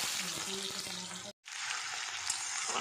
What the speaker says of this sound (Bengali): ফোড়নটা ভাজা হয়ে এলে দিয়ে দিচ্ছি ছোট করে কেটে রাখা আলু।